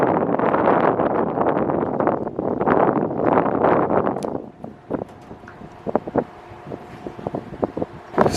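Strong wind buffeting the microphone at a football field, loud and gusty for about four seconds before dropping away, leaving faint scattered thumps and knocks.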